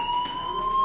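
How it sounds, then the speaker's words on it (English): A building fire alarm in the video game Life is Strange rings as a continuous steady electronic tone, held at moderate loudness with no talk over it. "do you hear that fire alarm?"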